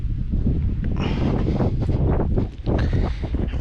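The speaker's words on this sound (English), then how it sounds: "We got a little bit of wind going, so we do have that going on." Wind buffeting a microphone at an RC model airplane flying field where an E-flite Air Tractor 1.5 sits ready, a steady low rumbling roar with gusty rustling throughout, briefly easing near the end.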